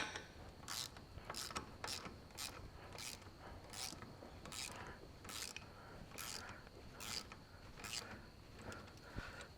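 Wrench loosening a steering clamp on a John Deere 1640 MFWD tractor, giving a steady series of regular ratcheting clicks, close by over a low background hum.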